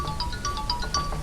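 A cellphone ringtone plays on its own, a steady run of short, bright electronic beeps repeating in a quick melodic pattern, fairly loud and close.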